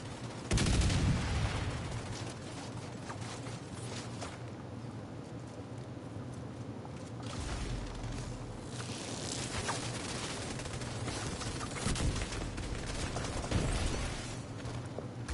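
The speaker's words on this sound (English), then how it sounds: "Mortars on the rooftop." Rooftop mortars and gunfire in The Division 2 PvP: constant dense rattling automatic fire with heavy thumping blasts that rolls on without a break, fairly distant and muffled throughout.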